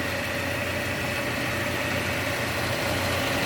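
Original, restored engine of a 1967 Lincoln Continental idling steadily, a constant broadband rumble with no change in pace, heard close up.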